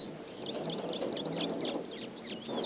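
Wild birds trilling insistently outdoors, several bright chirps and rapid trills overlapping above a soft ambient background, moderately close with no talk.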